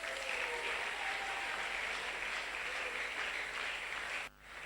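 A church congregation claps and cheers in steady, sustained applause, dense and even throughout, then cut off sharply near the end.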